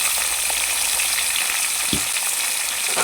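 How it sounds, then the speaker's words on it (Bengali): Pointed gourd (potol), salted and dusted with a little turmeric, fries in a pan over a medium flame, giving a steady, dense sizzle with a brief stirring scrape partway through and no voices. "এখন পটলটাকে ভালোভাবে ভেজে নেব"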